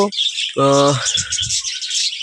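Budgerigars give a few loud, close chirps and a buzzing warble in quick succession, followed by softer, rapid twittering.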